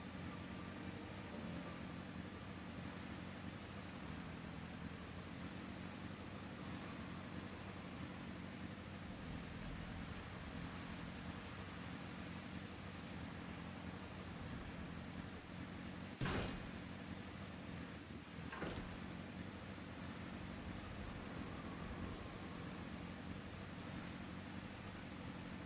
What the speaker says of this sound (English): the sky is full of rain and not dropping fireballs